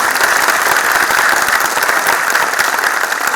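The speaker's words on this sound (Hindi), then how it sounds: "दोनों के लिए एक बार जोरदार तालियां बजाइए।" Loud, dense applause from a large audience at a poetry tribute event, continuous vigorous clapping throughout with no voices heard.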